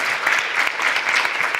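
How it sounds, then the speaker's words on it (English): Short burst of audience applause at the NordMatch 2017 final, a dense steady patter of many hands clapping throughout, loud and close, with no voices standing out. "when I say that Kaisa Larjoma is coming,"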